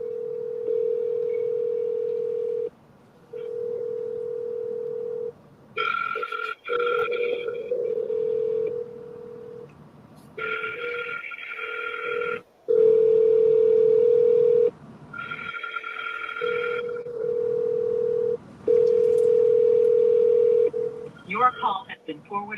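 During an outgoing phone call, a ringback tone repeats in long, steady, evenly spaced bursts. Voices talk over and between the rings.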